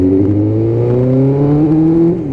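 A Suzuki GSXR1000 motorcycle in Movistar livery accelerates on a wet road, its engine note climbing steadily in pitch as it pulls hard, loud and close throughout.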